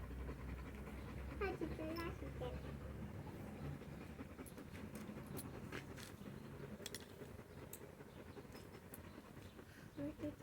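A long-haired German Shepherd dog pants quietly and steadily close by, a soft rhythmic breathing against low background rumble, and someone speaks briefly.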